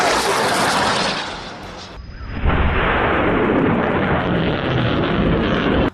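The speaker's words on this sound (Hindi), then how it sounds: "उसने यहाँ पर 114 mm के कैलिबर रॉकेट दागे हैं" Hamas fighters in Gaza fire 114 mm caliber rockets from a launcher: a loud, close, roaring blast, a short lull, then a second sustained rushing roar.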